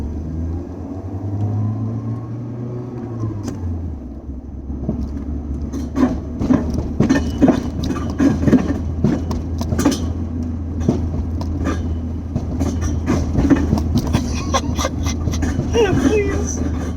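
A car with a new Megan Racing OE-RS exhaust and a large muffler runs loud, a deep steady rumble that swells as it moves off, close up, with excited talking over it.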